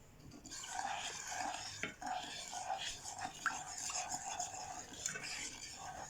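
A utensil stirs about 100 grams of sugar with lemons in a bowl, a steady close scraping and swishing that runs continuously at low volume with small clinks against the bowl.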